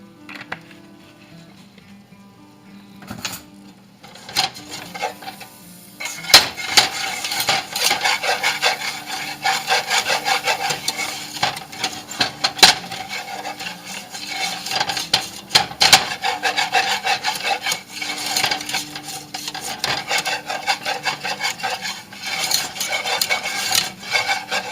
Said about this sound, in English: you want to whisk this together